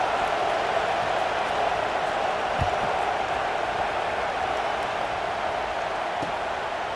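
Stadium crowd in the video game EA Sports College Football 26, a steady, dense roar that holds at an even level for the whole stretch with no clear voices on top.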